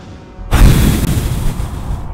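A Bullet Bill blows up in Super Mario Galaxy with one abrupt, loud boom that cuts in after a quiet start, then a sustained crackling roar that lingers to the end.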